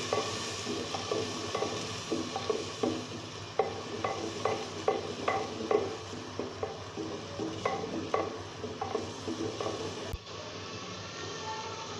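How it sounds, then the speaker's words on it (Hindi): Spice masala of cumin and dried coriander being fried and stirred in a pan for a chicken handi, with a steady sizzle and repeated scraping strokes throughout, close up. "अब मैं इस सारे मसाले को 2 मिनट तक भून लूँगी"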